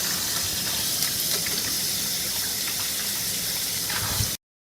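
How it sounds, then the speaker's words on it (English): Fresh tomatoes are washed under a running tap, a steady, close rush of water splashing in a sink for about four seconds before it stops abruptly. "I will wash the tomatoes first."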